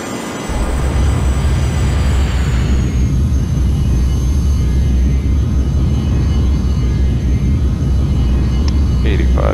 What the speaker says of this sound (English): And that is the Lockheed T-33 Shooting Star.